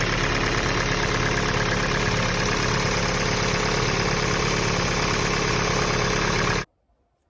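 A car engine with forged internals idles steadily with a rough, slightly uneven throb from a slight misfire, continuous and close, then stops suddenly.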